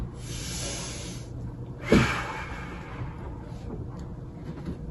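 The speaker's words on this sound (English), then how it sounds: "I will breathe as I sweep." A single full breath taken in and out during broom sweeping at home, a soft airy inhale swelling into one louder whooshing exhale near the middle, with faint hissy bristle strokes against the floor around it.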